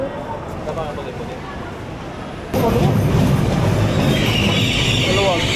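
Train running, heard from inside a carriage: a steady rumble that suddenly grows louder and brighter partway through, with some faint wheel squeal and voices in the background.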